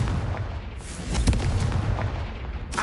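A Confringo fire spell bursts in Hogwarts Legacy, a loud booming explosion with a sharp crack and rumbling low tail, followed by a second blast near the end, no voices.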